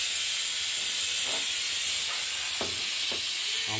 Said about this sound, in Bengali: সিটিটা পড়ুক।